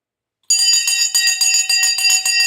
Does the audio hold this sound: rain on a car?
no